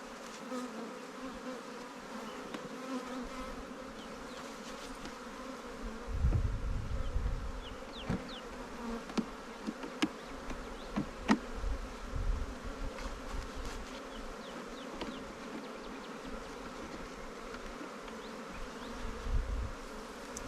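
Honey bees buzz steadily around a newly set up hive, a continuous close drone with individual bees zipping past and occasional low bumps of handling.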